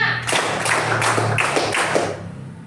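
A class of students claps five times in a classroom clapping game, with evenly spaced, crisp bursts that land one after another and then fall silent.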